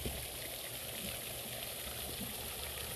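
A PVC pipe aerator runs in a fish pond, giving a steady, close, continuous bubbling and gushing water hiss with no breaks and no talking.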